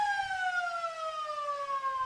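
A long electronic final siren sounds at a community football grand final, a steady tone that holds for the whole stretch and slowly slides lower in pitch, loud and alone over a faint crowd murmur.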